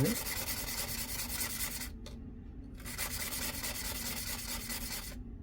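A gemstone is ground against an abrasive surface during a diamond test, giving a steady, close scraping rub that runs almost continuously with two short breaks.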